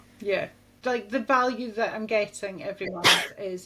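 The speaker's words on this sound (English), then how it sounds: "Did you just sneeze again?" One sharp sneeze bursts out near the end, close and loud, right after a stretch of someone talking.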